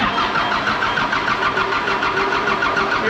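A John Deere 450G dozer with a 4045 diesel engine and a faulty Stanadyne DB4 injection pump, cranking with a steady, rhythmic mechanical churn close by, loud and unbroken for the whole stretch.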